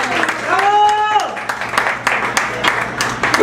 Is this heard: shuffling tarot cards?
no